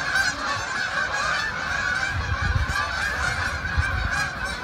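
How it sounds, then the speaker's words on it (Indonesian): A large flock of migrating geese honking continuously overhead in fall, many overlapping calls forming a steady, fairly loud chorus with no talking. "Banyak banget nih burungnya, terbang kemana mereka?"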